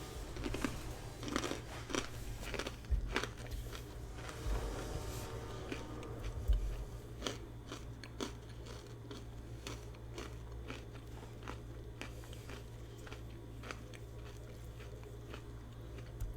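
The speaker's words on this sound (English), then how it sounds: "I'm eating some pretzels, so you might hear some crunching." Crunching on pretzels close to the microphone, with irregular crisp bites and chewing crackles clustered in the first seconds, then quieter chewing over a low steady hum, mostly without talk.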